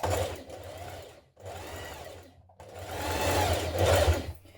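A sewing machine understitches around the neckline of a summer top in three close bursts of fast whirring stitching, each separated by a brief pause.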